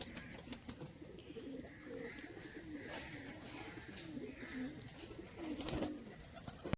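Pigeons at a home loft of sale birds coo softly with occasional bursts of wing flapping, fairly faint and distant, with a scatter of small chirps and no clear talk.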